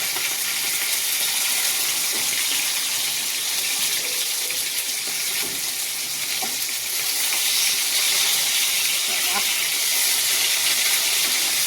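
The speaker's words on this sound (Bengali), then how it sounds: "মাছ ভাজা হয়ে যাচ্ছে।" Fish frying in hot oil gives a steady, dense crackling sizzle that runs unbroken throughout, fairly loud and close, with faint scattered pops and a little background noise.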